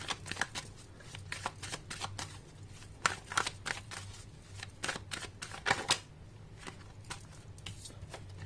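Tarot cards are shuffled and drawn by hand in a quiet room, giving a run of quick, crisp riffling flicks and slaps that come close and clear in irregular bursts.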